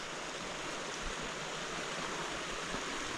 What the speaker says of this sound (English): I need that waterfall in my backyard.